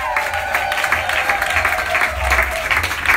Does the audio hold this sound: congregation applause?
yes